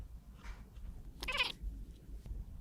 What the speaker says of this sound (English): we're petting our little black kitty cat, our little Omen, Otter Pop